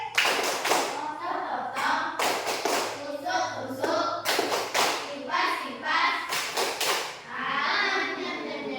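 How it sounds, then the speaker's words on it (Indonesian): Schoolchildren in an Indonesian classroom do the 'tepuk sate' clapping chant, crisp rhythmic claps grouped in patterned bursts between unison chanted lines, close and lively, finishing on a drawn-out group chant. "Terus tepuk sate."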